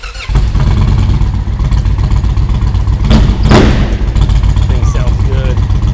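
A custom Indian Chieftain PowerPlus motorcycle engine runs loud and close, with a deep, steady, throaty rumble throughout and a couple of sharp revs or pops partway through.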